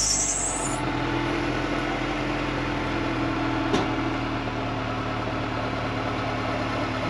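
A Honda Integra DB8 Type R engine idles steadily with a constant low hum and mechanical drone, a brief high whine fading at the start and one small click near the middle.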